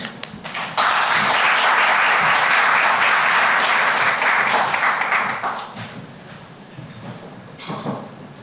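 An audience at a games industry summit talk on mental health bursts into loud, sustained applause that fades after several seconds into scattered claps and room noise.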